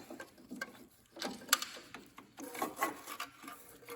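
Scraping, rattling wrench and metal clicks while bolts are removed from a VW Beetle Type 1 engine in a garage, with irregular, fairly faint bursts and a sharper clink near the middle and no talk.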